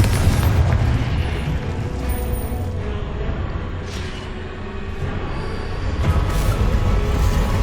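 Confringo fire spell explosions in Hogwarts Legacy, a steady run of booming blasts and rumbling bursts, loud and dense throughout with swells near the start and end.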